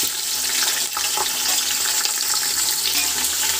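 Sliced onions and green chillies drop into hot oil already holding whole spices for chicken biryani, producing a continuous, loud, close sizzle and hiss.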